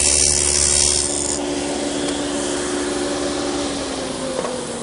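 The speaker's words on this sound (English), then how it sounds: "I've set up the dado for a 1/4 inch width, and we'll run that groove for the bottom first." A dado blade set to a 1/4 inch width cuts a groove in a wooden drawer side for a plywood bottom, a loud, steady, close whining roar with a rough rasping edge that continues throughout without speech.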